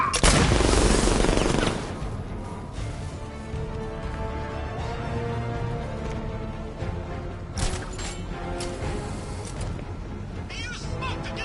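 Gunfire in a video game, a dense loud burst at the start followed by scattered shots and rattling under a busy background.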